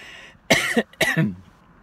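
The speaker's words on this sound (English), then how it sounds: "hold on one second, I have to cough" Two sharp coughs in quick succession, close and fairly loud, with a short pause between them.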